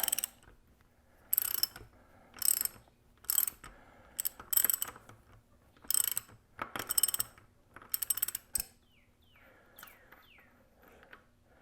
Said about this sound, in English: We'll just put the wrench on there, make sure it's got a good, there we go.